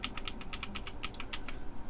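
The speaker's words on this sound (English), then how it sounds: "we have a pretty functional keyboard" Someone types quickly on a repaired Amiga 500 computer keyboard, producing a close, steady run of crisp plastic key clicks with no talking.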